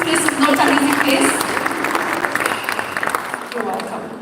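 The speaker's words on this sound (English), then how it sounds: "let's clap for her and encourage her as he comes" Mourners at a memorial gathering clapping in encouragement, a moderate burst of hand claps with voices mixed in, thinning out toward the end.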